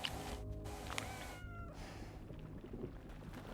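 A cat gives a faint, brief meow in the video game Death Stranding 2, heard softly under a dense wash of ambient score and environmental noise.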